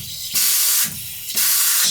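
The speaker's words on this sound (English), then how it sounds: "The fill valve spraying." A faulty toilet fill valve sprays water in loud, close hissing bursts, two long sprays separated by short pauses, with no talk.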